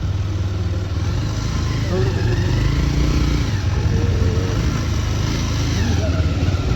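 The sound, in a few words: motorcycle engine running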